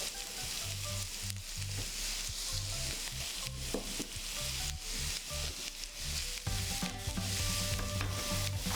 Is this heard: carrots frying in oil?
yes